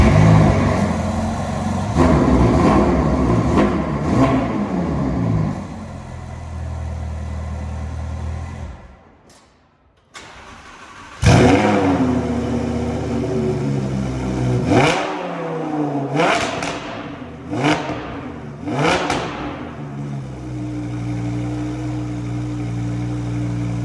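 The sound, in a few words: Lamborghini and Ferrari engines starting and revving, titanium exhaust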